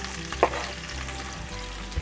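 Onion hits hot oil infused with thyme in a pan, giving a steady soft sizzle with a faint clatter as it goes in, heard close and alone.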